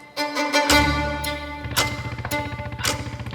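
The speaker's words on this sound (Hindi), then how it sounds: "ये पीछे किसी मोटरसाइकिल की आवाज है।" A cruiser motorcycle engine rumbles in the background, its low throb beginning abruptly and settling into a steady, pulsing idle beneath sustained tonal sounds, with no talking.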